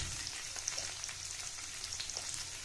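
Carrots and beans fry quietly in a pan with a faint, steady sizzle and a few soft crackles, heard close but low in level.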